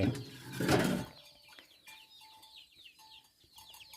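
Chickens on a farm cluck and chirp in short repeated calls after a burst of louder rustling and flapping at the start, with steady bird chatter continuing in the background.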